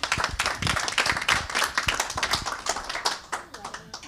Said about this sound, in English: I'd really like a nice applause for Ayumi.